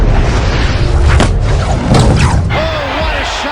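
A boxing punch landing for a knockdown in a Mike Tyson fight, a loud heavy impact amid roaring arena crowd noise and excited commentary.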